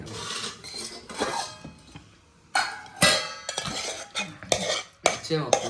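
Pots and metal utensils clatter and scrape while potato curry and ridge gourd curry are stirred and mixed, with irregular bursts of clinking and rubbing, close and fairly loud, and no talking.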